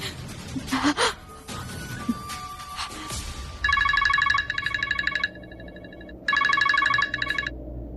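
A phone's ringback tone pulses in two bursts of repeated electronic rings, preceded by a gasp and rustling movement.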